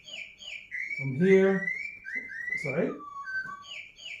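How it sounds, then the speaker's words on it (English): A bird gives clear, high, whistling chirps in repeated phrases, close and prominent, while someone speaking during a workplace safety talk about line of fire carries on underneath. "Sorry about that, bird."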